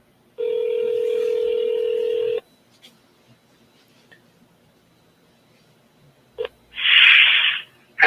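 Outgoing telephone call ringback: one long steady tone of about two seconds, then a pause with faint clicks, and a short burst and a second tone near the end, loud and alone with no talking.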